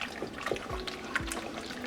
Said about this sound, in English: I will be adding hot water to this dal before adding it to my meat gravy.